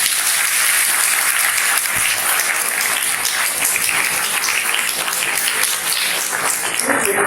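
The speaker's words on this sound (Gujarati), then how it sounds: "જોરદાર તાળી તમારા માટે." A large room of commerce students applauds loudly and continuously for about seven seconds, a dense, even roar of clapping.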